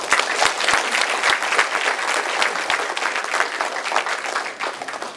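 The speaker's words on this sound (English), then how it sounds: "Let's give him a round of applause." Banquet guests at a sports hall of fame dinner break into loud, sustained applause, many hands clapping close and continuously.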